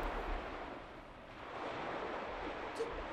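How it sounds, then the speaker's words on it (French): Steady broadband wash of ocean waves, like surf heard from nearby, continuous and fairly soft with no voices and only a faint brief blip near the end. "Tu n'entends pas le bruit des vagues?"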